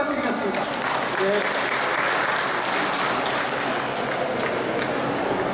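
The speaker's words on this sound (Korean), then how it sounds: "큰 박수 한번 부탁드리겠습니다" An audience at the opening of a Seoul photography festival applauds, a dense, steady clapping that fills the room and holds at full strength without a break.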